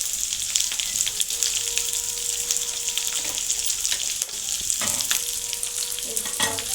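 Chili powder and cumin spice masala sizzles loudly and continuously as it fries in a pan, with occasional scraping stirs and no voices.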